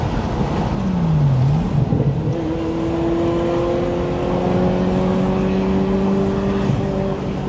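A Ferrari 355 GTS engine revs up, its pitch dipping then climbing into a steady, droning hum that holds at a loud level.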